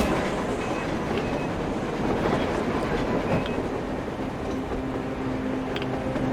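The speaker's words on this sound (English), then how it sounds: "A train! A damn train on the surface!" A train rumbles past in the video game Metro Exodus, a steady broad roar with rail noise and faint tonal squeals, holding level throughout with a humming tone rising near the end.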